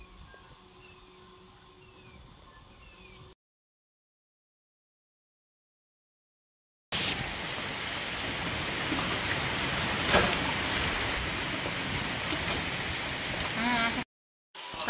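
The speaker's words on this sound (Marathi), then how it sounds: "पावसानं चांगलं चालू केले." Steady rain pours down in a rural village in the evening, a dense broadband hiss filling the second half after a quieter stretch with faint insect chirping and a gap of silence.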